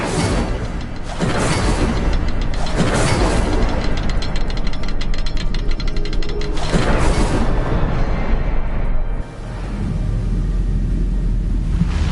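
An Incendio fire spell cast in Hogwarts Legacy, a loud, roaring burst of flame that swells into a sustained rumbling whoosh for several seconds, dips briefly, then rumbles on with deep low-end weight.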